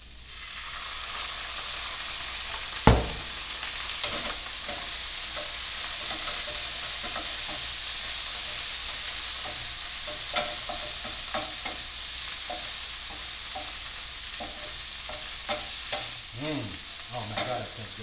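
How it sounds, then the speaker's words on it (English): A pan deglazed with vinegar for chicken parmigiana, giving a steady close sizzle and hiss with a sharp burst at the pour, followed by scraping stirs and occasional clinks. "Now I'm going to deglaze that with a little bit of vinegar."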